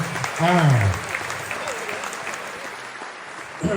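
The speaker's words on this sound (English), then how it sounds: "Give a round of applause for that incredible" An audience claps after a winning bid at a fundraising auction, steady applause running under a loud voice at the start and fading toward the end.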